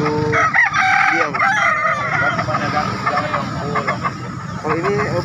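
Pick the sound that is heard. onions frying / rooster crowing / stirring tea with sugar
rooster crowing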